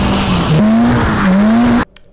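Stunt cars skid hard around a racetrack skid pan, loud continuous tyre squeal with wavering pitch and engine drone for nearly two seconds, then cutting off abruptly into near silence.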